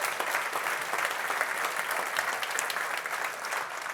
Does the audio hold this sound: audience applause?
yes